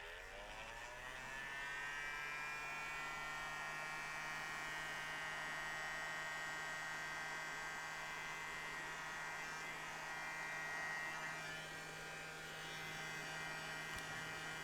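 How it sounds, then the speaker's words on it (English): A heat gun blows hot air with a steady, even whirring hum that rises briefly as it starts and then holds constant and fairly quiet, used on a glued piece with no talking. "Let's get the heat gun in."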